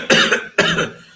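Two sharp, close coughs ring out about half a second apart, each a loud harsh burst that quickly fades, with no talking around them.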